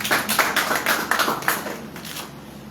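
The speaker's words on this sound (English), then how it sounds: "Please clap for him once." Several people at a summit clap briefly, the irregular claps loud and close at first, then thinning and fading toward the end of the short burst.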